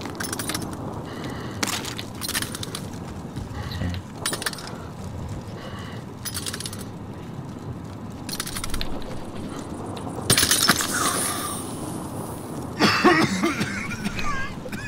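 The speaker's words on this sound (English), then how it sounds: "I just heard someone coughing." Coughing from a nearby player in the multiplayer shooter game Warzone, heard as brief bursts amid steady game noise and clattering effects, with a louder sharp burst near the end.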